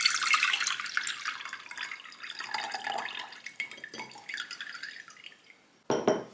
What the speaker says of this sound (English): first I'm going to add in my tea that I brewed